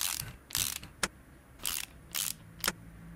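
A car wheel is refitted in the game Car Mechanic Simulator, heard as a series of short, sharp ratcheting bursts from a wheel-nut tool, about six quick zips spaced irregularly, close and alone.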